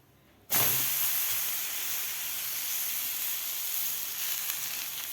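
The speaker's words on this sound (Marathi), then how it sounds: "दुसरंसुद्धा आपण बनवून घेतलेले तव्यावर घालून घेऊया थालीपीठ" Vegetable thalipeeth, a mixed-vegetable flatbread, hits a hot tava griddle and bursts into a loud, steady sizzle that keeps hissing evenly throughout, with no talk over it.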